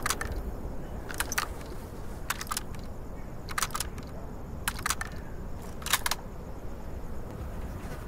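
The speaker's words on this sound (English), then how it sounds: "Need to reload here!" Weapon reloading in the video game Insurgency: Sandstorm, with several short bursts of mechanical clicks and clacks repeating every second or so over a steady background hum.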